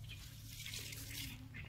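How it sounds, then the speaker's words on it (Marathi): Fast-moving water rushes along a coastal creek where mud crabs are caught, a continuous faint hissing, gurgling flow with no voices over it. "स्पीड बघा पाण्याचा मित्रांनो."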